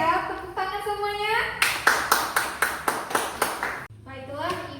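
Young pupils in a first-grade fiqh classroom clap in unison: a run of roughly seven sharp, regular claps, close and crisp, with children's voices chattering before and after the burst.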